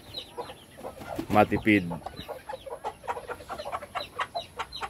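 Farm chickens cluck and murmur steadily nearby, with one louder squawking call rising above the flock and a person speaking briefly in the background.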